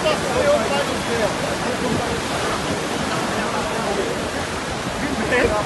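A river swollen by heavy rain in Pernambuco rushes loudly in a constant broadband roar with no letup, while voices talk over the torrent.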